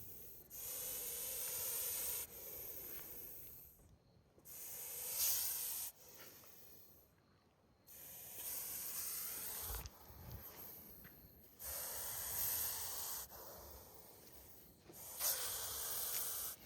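A Russell's viper, a highly venomous snake, is being released during a snake rescue and gives a series of loud, breathy hisses in repeated bursts of one to two seconds, each separated by a short pause, heard up close.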